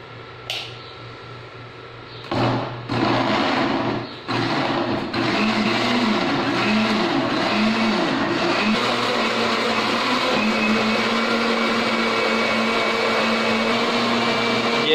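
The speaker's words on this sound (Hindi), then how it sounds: "ये प्याज डाल दिए हैं और इन दोनों के साथ ग्राइंड कर लेंगे, ये पेस्ट बन जाएगा।" A mixer grinder whirs loudly and steadily as it grinds onions and tomatoes into a paste. After a brief start and a few short pulses it runs as one continuous, close, sustained motor drone with no talking.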